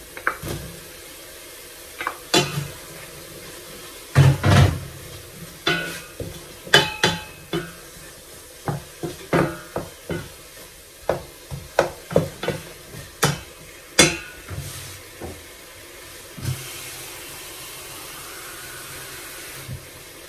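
Chopped onions sizzle steadily in a hot pan while a utensil scrapes and clatters against the metal in repeated sharp strokes, loud and close, with no talking.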